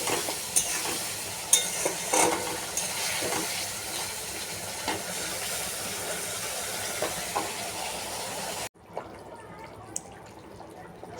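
Vegetables sauté in a pan, a steady sizzle with repeated stirring scrapes for about eight seconds before it cuts to quieter background with a couple of small clinks.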